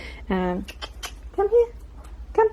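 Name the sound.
9-week-old puppy whining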